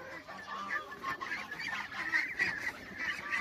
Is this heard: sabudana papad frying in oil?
no